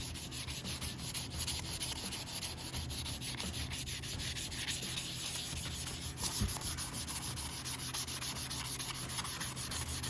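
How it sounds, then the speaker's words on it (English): An aluminum Brembo 4-piston brake caliper is rubbed with 320 grit sandpaper in a steady, rapid back-and-forth scratching that runs without pause, close and moderately quiet, with no voices. "I'll go to a 320 right now and just show you guys what it looks like. You can almost polish aluminum just by sanding it."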